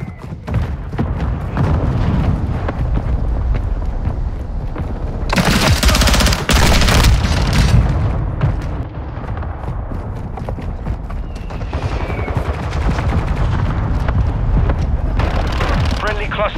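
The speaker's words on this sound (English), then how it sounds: "Mortar strike on the way." Mortar strike in Call of Duty Modern Warfare 2, with loud rolling explosions and thuds mixed with steady gunfire. A dense burst of blasts hits mid-way, and game voices are heard throughout.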